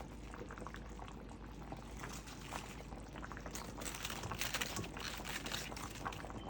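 Steady bubbling of a pot of meat at a boil as vegetables go in, a continuous close simmering hiss with soft splashes and liquid stirring throughout, no voices.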